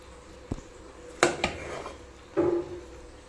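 A spoon scraping and clanking against a pot while keema gongura biryani rice is stirred, a few separate metallic knocks and scrapes, near and isolated.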